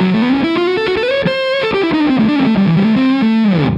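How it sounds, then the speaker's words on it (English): An electric guitar plays through a Stumpbox fuzz pedal with the bias knob fully clockwise and the fuzz nearly cranked, a loud, warm, saturated sustained melodic line with bending notes fading at the end. "I show you what happens if you go fully clockwise with a bias knob."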